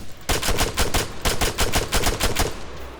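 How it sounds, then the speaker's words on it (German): Rapid automatic gunfire in the video game Arma 3, bursts of quick shots in a steady rattling rhythm, loud and close with brief pauses between volleys. "Jetzt höre ich es schießen."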